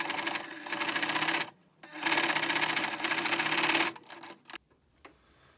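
A sewing machine stitches across a dress shirt sleeve cuff, running in two steady close bursts with a brief pause between, then stopping.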